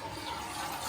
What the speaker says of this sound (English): I'm going to cut the water back on